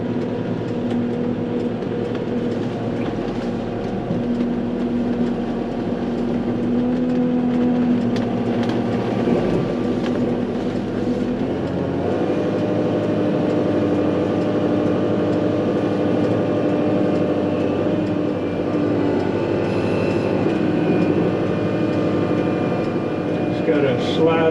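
A cab tractor with a large loader mows a wet lawn, its engine giving a steady, loud drone that runs throughout with a slight shift midway, while someone talks over it.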